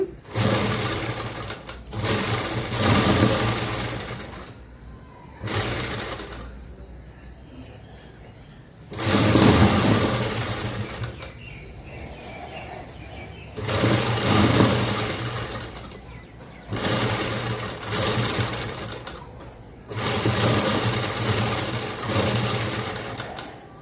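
Sewing machine stitching fabric piping with a cord inside, running in several loud bursts of rapid mechanical whirring separated by short pauses, with no talking.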